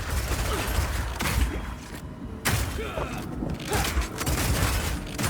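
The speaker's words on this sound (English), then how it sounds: "your Power Shot hits a weak spot and does a huge amount of single target damage" Power Shot skill striking an enemy weak spot in Path of Exile 2, heard as heavy booming impacts and thuds within a dense, continuous layer of game combat noise, loud and close.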